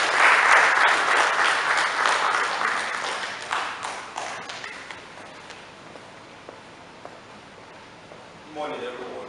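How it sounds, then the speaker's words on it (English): An audience at a freedom of information training event in Nigeria applauds to welcome a speaker, steady loud clapping at first that gradually thins and fades out, with a voice starting to speak at the very end. "with a round of applause"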